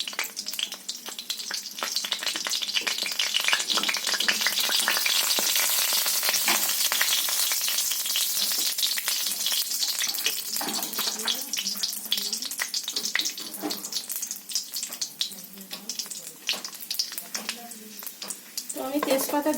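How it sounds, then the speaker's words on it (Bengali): Whole spices and bay leaf sizzle and crackle in hot oil in a wok, a loud dense frying hiss with sharp pops, easing slightly toward the end as a voice talks over it. "ফোড়ন দিয়ে দিলাম"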